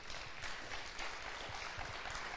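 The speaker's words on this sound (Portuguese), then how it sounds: "Aplauda o Senhor por isso." A church congregation applauds during a sermon, a faint, distant patter of steady clapping with no voice over it.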